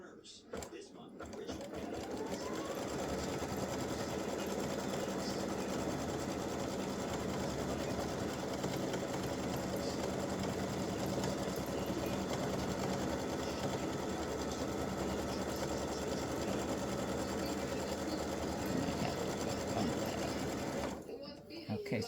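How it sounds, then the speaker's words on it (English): An embroidery sewing machine runs a placement stitch for appliqué, a steady, fast mechanical whir and rapid needle chatter that starts, holds evenly for about twenty seconds, then stops. "So I'm going to go ahead and stitch this"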